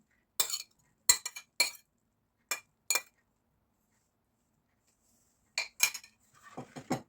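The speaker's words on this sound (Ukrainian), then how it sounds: "Перемішуємо." Stirring raisins into Easter bread dough in a metal bowl, with several bright clinking scrapes of a utensil in short bursts separated by pauses, close and fairly quiet.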